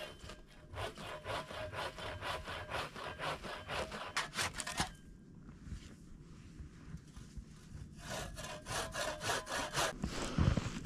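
Hand saw cutting firewood outdoors in deep winter cold, a rapid run of rhythmic rasping strokes, then a short pause and another burst of sawing, close and clear with no talking.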